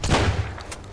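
Gunfire in the Sunkenland survival game: a brief close burst of shots with a boomy low thump, followed by fainter crackles as it fades.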